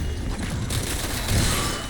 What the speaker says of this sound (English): we're going to have our explosion from the Beam Smasher